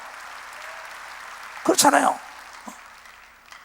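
A church congregation bursts into a short, loud round of clapping during a sermon, with a preacher's voice speaking before and after it.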